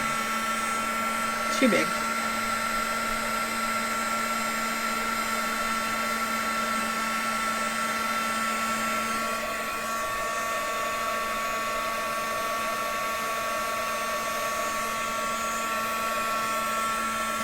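A heat tool blows steadily on the edge of a piece of crayon-covered paper, a continuous whirring hiss with a steady tone that runs throughout at a fairly loud level, briefly under a short spoken remark near the start.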